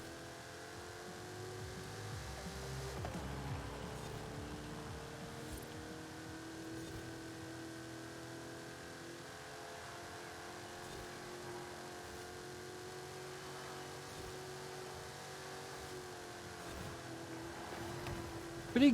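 A modern car's engine in Forza Horizon 5, from a 450hp spec series race, drones steadily with a sustained tone that shifts slowly in pitch as it holds revs, heard alone at moderate volume.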